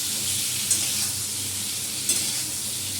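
Potato curry sizzles in a pan just after tomatoes are added, giving a steady close frying hiss with two faint stirring clicks and no talking.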